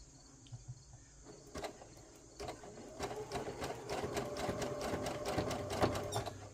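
Sewing machine stitching a zigzag while making a rug, a rapid rhythmic needle clatter that starts softly and builds into steady close running stitches.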